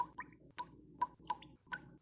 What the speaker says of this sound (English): large beads of water droplets started dropping down into the